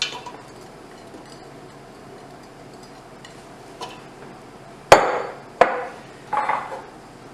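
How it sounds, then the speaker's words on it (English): Two pounds of chopped rhubarb go into a pot for low-sugar strawberry rhubarb jam, heard as a few sharp, near knocks and a brief clatter of pieces landing after a quiet stretch. "to the pot you're going to add your 7 cups, 2 pounds, your 2 pounds of chopped rhubarb"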